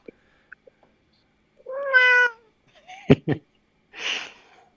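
A house cat named Critter, an elderly 18-year-old female, gives one clear rising-falling meow near the microphone, followed by short clattering sounds and a breathy noise, in an otherwise quiet room.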